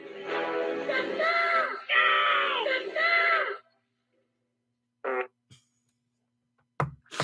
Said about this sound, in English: I like the fart at the end.